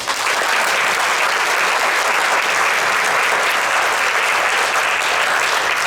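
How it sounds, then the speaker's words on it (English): A large audience at a Teacher of the Year ceremony claps steadily and loudly throughout, a dense, continuous wash of applause with no gaps. "Let's give all of these teachers a round of applause."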